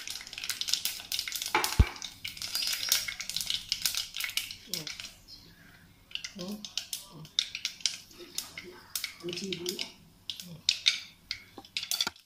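Mustard seeds and fenugreek spluttering in hot coconut oil and ghee for a fish curry, a busy crackle of sharp pops and sizzle running throughout, close and moderately loud, with a few louder pops.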